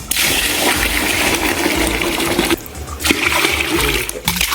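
Water is poured onto ground rice flour to soak it for crisp rice-flour vadiyalu, a loud, close splashing gush that pauses briefly midway and then resumes.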